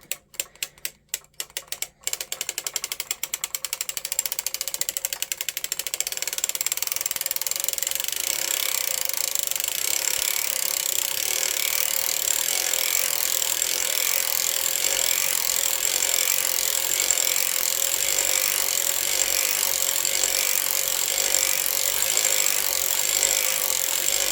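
A hand-cranked circular sock machine knits a 48-stitch flat fabric for fingerless gloves, giving off a steady, close mechanical rattle and ticking that starts after a few brief clicks and runs on evenly, with no talking.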